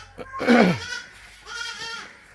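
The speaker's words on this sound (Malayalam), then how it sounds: "നല്ലൊരു ബീറ്റലാട്" A Beetal goat bleats in two calls, a loud wavering bleat followed by a softer, shorter one, heard close with no speech over it.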